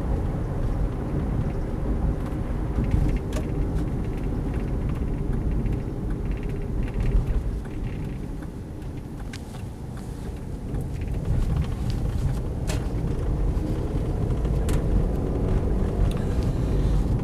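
Subaru Forester 2.0S turbo automatic with about 169,500 miles driving along, a steady low engine and road rumble with wind buffeting, heard from inside the car without speech.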